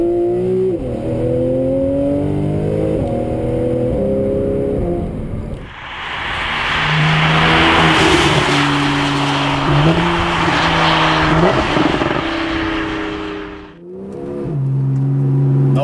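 A 2012/2013 Porsche 911 Carrera S with PDK gearbox accelerates hard. Its engine note climbs in loud, close revving sweeps, with quick upshifts and a brief lift-off, and no voices are heard.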